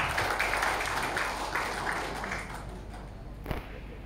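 Audience applause at an Indonesian government ceremony in Nganjuk Regency, a steady wash of many hands clapping at moderate distance that fades gradually, with no voice over it.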